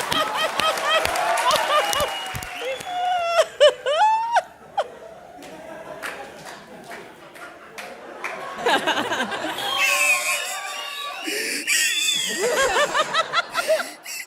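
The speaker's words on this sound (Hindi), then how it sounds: "जोरदार तालियां मेरे विपुल शाह के लिए" A comedy show audience laughs and claps for a named guest, scattered laughter and chuckles mixing with bursts of applause between spoken lines.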